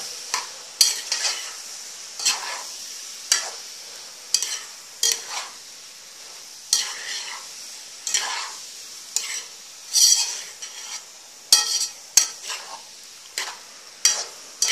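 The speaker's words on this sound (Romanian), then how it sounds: "Amestecăm totul bine." Vegetables with a bay leaf being stirred in a frying pan, a soft sizzle under repeated sharp scrapes and clinks of a utensil against the pan, close and steady, no voices.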